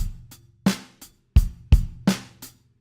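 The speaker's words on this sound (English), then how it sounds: "if we were over on the hi-hat there, that would just sound like this." Simple rock drum beat from a Trinity Rock & Pop Grade 2 piece played on hi-hat with bass drum, with bright hi-hat and snappy strokes alternating with low kick thumps in a steady pattern, close and alone.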